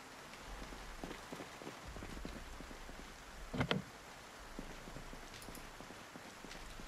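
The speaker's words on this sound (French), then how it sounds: "Il pleut." Steady rain pattering on surfaces in Project Zomboid, a soft continuous hiss with scattered drop ticks, faint and even, broken midway by one brief louder splashy burst.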